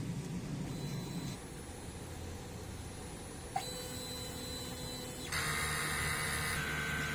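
A DTF printer runs a print head cleaning cycle, giving a steady mechanical hum and whine with a brief click partway through and a louder, higher pump-like tone starting near the end, close and continuous without talk.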